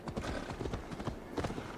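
Horse hooves clip-clopping in the video game Assassin's Creed Valhalla, a steady run of close, crisp hoof beats repeating through the whole stretch with no voices over them.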